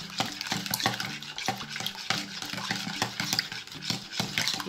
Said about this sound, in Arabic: نقلب كويس كده